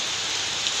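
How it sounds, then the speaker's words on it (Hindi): Rain pours steadily in Kanpur, India, a continuous even hiss without breaks or other sounds over the short span. "आज के लिए बस इतना ही छोटा सा बारिश का वीडियो लेकर आई थी"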